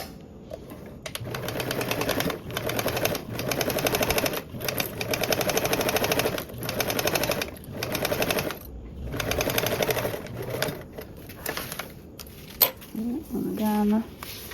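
Sewing machine stitching a 3/8 inch seam on a duffle bag, a close, steady mechanical chatter running in repeated bursts with brief stops, ending with a few clicks.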